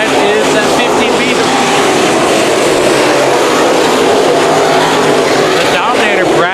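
IMCA modified race cars racing at Bakersfield Speedway, a loud continuous engine roar from the pack with a car passing close near the end, under constant trackside commentary.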